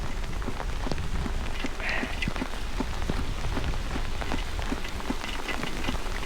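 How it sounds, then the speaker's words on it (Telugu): Heavy rain pours down steadily in a loud, dense wash of drops striking surfaces, with no voices over it. "ఎండలు ఎండి ఇట్లా వాన పడితే భలే ఉంటుంది కదా"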